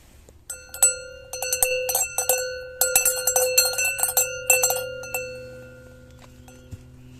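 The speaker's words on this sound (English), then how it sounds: "So I've rang the bell for the ancestors" A bell marked for the ancestors, hanging at the far end of one of England's oldest walking tracks, is struck repeatedly in quick irregular bursts, its bright ringing tones overlapping and then fading away over several seconds.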